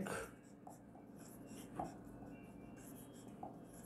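A pen scratches across paper in short strokes during an accounting lesson, faint and close, with soft tapping marks and a quiet room background.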